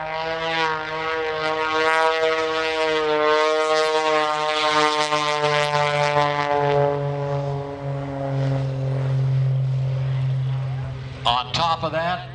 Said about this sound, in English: with the thrust of the engine, the wind against the fuselage, here's the high alpha maneuver.